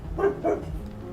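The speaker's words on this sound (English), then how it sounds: "that is a dog." A dog gives two short barks close by in a quiet indoor room, with no one talking over them.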